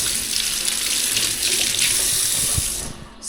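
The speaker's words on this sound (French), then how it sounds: "Voilà, l'eau coule." Water running steadily from a kitchen tap in an apartment in Kinshasa, a continuous close hiss and splash with no talking.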